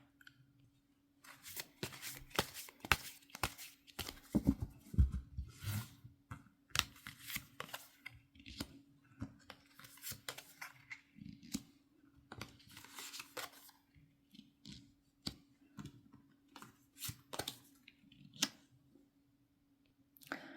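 Tarot cards being shuffled and drawn, a quick run of crisp flicks, riffles and slaps close by, with a faint steady hum beneath.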